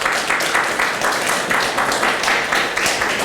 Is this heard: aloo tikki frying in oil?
no